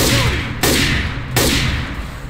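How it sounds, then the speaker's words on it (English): Gunfire from the co-op shooter Left 4 Dead 2, heard as three loud, close shots or bursts, each ending in a decaying ring. "Francis, check your fire!"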